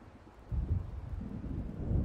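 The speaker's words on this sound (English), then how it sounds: "It seems there's a storm coming." Thunder from an approaching storm in Alan Wake rolls as a low, muffled rumble that swells after a moment and lingers at a distance, with faint wind beneath.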